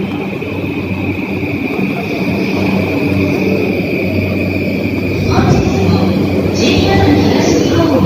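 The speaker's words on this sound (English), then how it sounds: "The train has arrived." A loud, sustained rumble of a Yamanote Line train rolling into Tokyo Station, with a low roar and screeching tones building toward the end.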